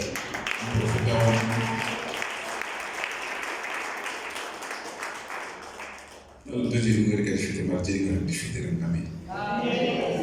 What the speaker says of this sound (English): Can you clap hands for my wife at the back?